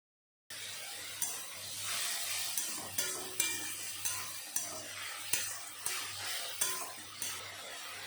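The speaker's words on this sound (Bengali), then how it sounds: "একটু সময় মিশানোর পরে তারপরে দিয়ে দেব ঘষে রাখা পেঁয়াজ" Grated onion and spices fry in a pan while a utensil stirs them in regular scraping strokes, roughly one per second, over a steady close sizzle with no voices.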